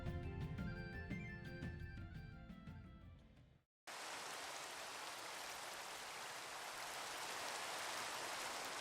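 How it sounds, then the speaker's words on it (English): Steady rain in a Minecraft-style game, a dense even hiss of falling drops that starts abruptly after a short gap, preceded by unrelated tonal music. "it's been raining for 3 days straight"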